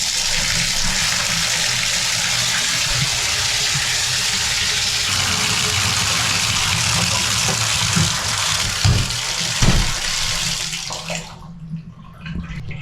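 A shower in a cheap motel sprays a steady rush of water that runs alone for several seconds, then is cut off, leaving a few faint knocks and drips.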